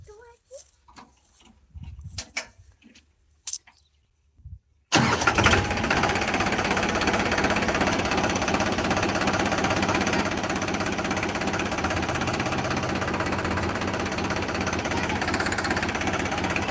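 Quiet scattered voices and bumps give way to an engine roaring to life, then a loud, steady tractor chug runs unbroken to the end.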